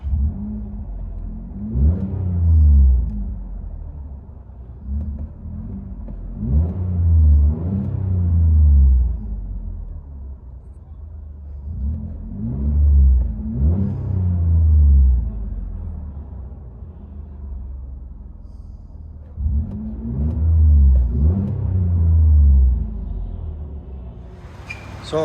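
Inside the cab of a Chevy Colorado V6 with a Magnaflow exhaust, a muffled engine drone swells through five repeated rev bursts, each rising and easing back to a low rumbling idle.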